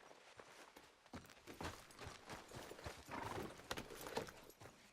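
Steady clip-clop of horse hooves on hard ground in Red Dead Redemption 2, a continuous trotting rhythm with a faint whinny mixed in, close and moderately loud.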